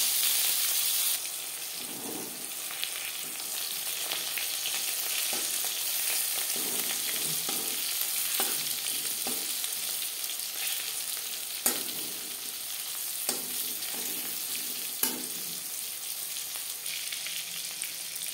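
Slices of pointed gourd (potol) frying in hot oil, a steady close sizzle punctuated by scraping stirs and occasional sharp clinks of the spatula against the pan.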